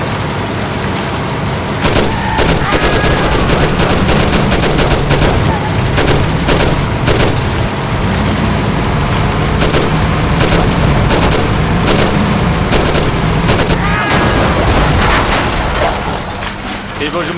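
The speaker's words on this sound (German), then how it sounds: "Okay, Freunde, wir rattern. Über 200 Schuss." Loud, sustained machine-gun fire in the video game Mafia rattles in rapid bursts, mixed with booms and engine rumble, forming a dense, continuous barrage of game combat.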